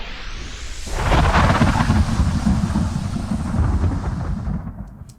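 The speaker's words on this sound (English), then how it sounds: "So I put some thunder and electricity." A powerful thunder and electricity effect layered into a song's guitar solo: a deep crash breaks in after a second and rolls on as a loud, sustained rumble before fading.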